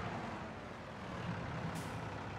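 Loader wagon driving in Farming Simulator 22, a steady low engine rumble and road noise with a brief hiss partway through, moderately loud and continuous, with no talking.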